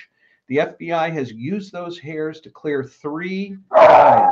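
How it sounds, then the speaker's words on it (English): A dog barks loudly and close by in a single harsh burst right after a man's speech ends. "Pardon me, that's the dog."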